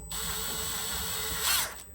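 A Milwaukee power drill fitted with a pencil sharpener chuck runs steadily at close range, a continuous whine that rises briefly toward the end as a pencil is fed in, with no talking.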